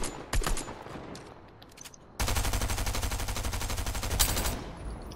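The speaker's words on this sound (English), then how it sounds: "I hear gunshots behind me." Gunfire in the Fortnite battle royale video game: a couple of sharp shots early, then after a lull a loud, sustained burst of rapid automatic fire lasting several seconds, close and dominant.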